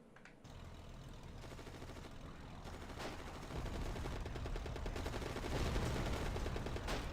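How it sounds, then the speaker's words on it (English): Artillery and gunfire shelling a town in a war video game, rapid repeated blasts and bursts of fire building steadily louder. "Sounds like we got some artillery that's blasting the town."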